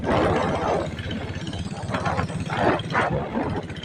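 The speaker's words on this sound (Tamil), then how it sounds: "இந்த வண்டி பீட் தனியாக தெரியும் ஃப்ரெண்ட்ஸ் உங்களுக்கு" Engine of a 2000 model Taurus diesel motorcycle idling close by with a steady, thumping beat.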